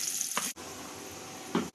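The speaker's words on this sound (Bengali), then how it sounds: "ডিম ভাজা হয়ে গেছে লাল লাল হয়ে বাজছে" Eggs fry in hot oil with a continuous close sizzle and a couple of brief stirring scrapes, and the sound cuts out briefly twice; no voices are present.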